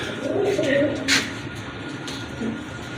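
A pair of large Rajgolla pigeons gives low cooing calls while someone talks over them, with one brief sharp noise in the middle.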